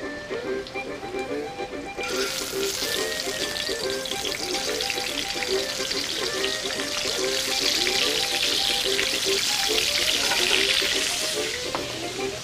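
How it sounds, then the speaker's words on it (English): Sea scallops placed into a pan of hot extra virgin olive oil burst into a loud, close sizzle that grows fuller and stays strong over a faint, repeating melodic background. "Put in the scallops."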